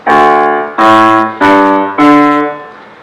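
A jazz piano's left hand plays a root-and-fifth bass line of four steady, loud bass chords in a slow even rhythm, each note ringing and decaying before the next.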